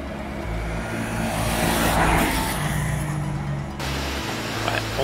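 A 2019 Yamaha YZF-R3 motorcycle engine drones steadily on light throttle through a curve, swelling slightly then dropping in pitch, with rushing wind noise throughout.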